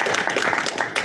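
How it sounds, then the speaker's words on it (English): An audience applauds at the end of a conference talk, with dense, steady clapping that is fairly loud and continuous through the short stretch. "So one more round of applause."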